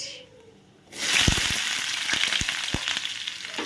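Dried red chili and chopped onion hit hot oil, setting off a sudden loud sizzle after a quiet start, with popping crackles over a steady frying hiss.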